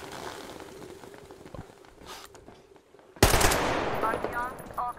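Gunfire in the Metro Exodus video game, a low rumble of background shots that ends in a sudden loud burst of automatic fire, close and sustained to the end.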